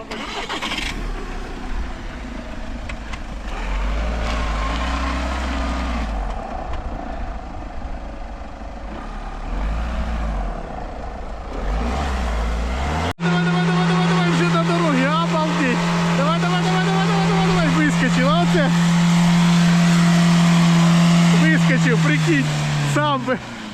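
A Volkswagen car stuck in a muddy rut, its engine loud and close, droning and then revving hard in long rising and falling surges as it rocks back and forth to climb out, with people talking over it throughout.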